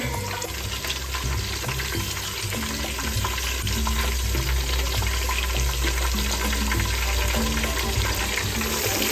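Onions and vegetables frying in oil for vegetable pulao, a dense, steady sizzle filling the whole stretch at an even, fairly loud level with a low hum beneath, no voices.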